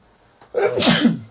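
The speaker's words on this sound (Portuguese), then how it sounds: "Vou espirrar." A single sharp sneeze, preceded by a brief intake of breath, close and loud.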